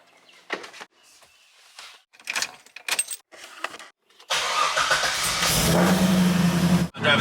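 Chevrolet Corvette with a new solid Delrin steering rack bushing: after a few bursts of door and key handling, the engine starts and rises into a loud, steady revving drive.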